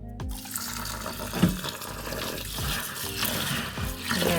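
Water runs from a tap as a pound of rice is washed for Jamaican-style cooking, a close continuous splashing and trickling with the occasional slosh of grains being stirred.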